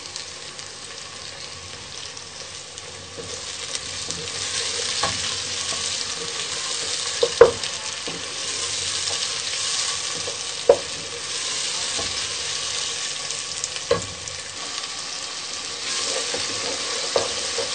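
Tomatoes frying in a pan with ginger-garlic paste for an aloo matar curry, giving a steady close sizzle with occasional stirring clicks and scrapes, no voices.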